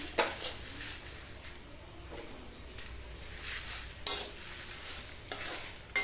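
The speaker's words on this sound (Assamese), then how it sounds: "এই শুকান মছলাখিনিৰ যি কেঁচা ভাৱ থাকে, সেই ভাৱটো যোৱালৈকে মই এইখিনি অকণমান ভাজিম।" Black mustard and fennel seeds dry-roasting in a pan for mango pickle, with a soft crackle under repeated scraping strokes of a spoon against the metal and a few sharper clinks.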